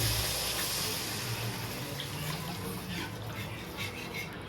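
A little water is poured into a pan of chicken curry seasoned with salt and turmeric, giving a close, steady rush of liquid that fades gradually over a few seconds.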